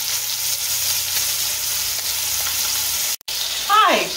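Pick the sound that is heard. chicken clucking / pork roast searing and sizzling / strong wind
pork roast searing and sizzling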